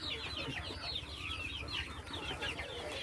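Mixed domestic and black chickens cluck steadily together in a free-range flock, a busy, close chorus of overlapping calls with no speech.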